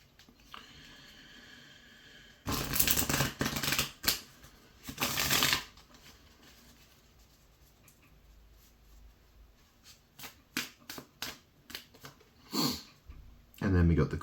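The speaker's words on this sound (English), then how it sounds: "Let's get some nice shuffle." Tarot cards being shuffled in two quick bursts, followed by quieter handling taps and sniffs in an otherwise hushed room.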